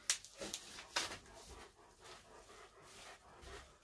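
A pet puppy panting in quick, breathy bursts close by, with a few sharper huffs early on and a steady soft wheeze after, no talking.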